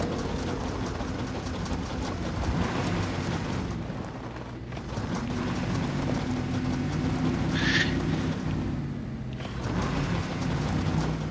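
A failing truck engine in the off-road driving game Expeditions: A MudRunner Game, inside caves, runs as a steady, loud low rumble throughout, with a brief dip in level midway.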